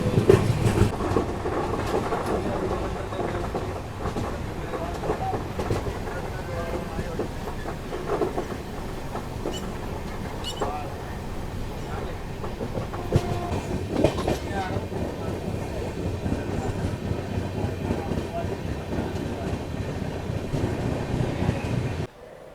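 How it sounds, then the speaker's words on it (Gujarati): A train rolls into Khambhalia railway station on a newly doubled, fully electrified line, its wheels clattering in a steady rhythm and the carriages rumbling past close by, with faint voices now and then. "તો ભાઈ ફાઇનલી આપણી ટ્રેન આવી ગઈ છે ખંભાળિયા રેલવે સ્ટેશન ઉપર"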